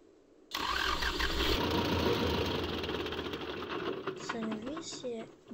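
A tractor engine in the video game Farming Simulator 22 fires up and settles into a steady, loud mechanical idle, with a person talking over the later part.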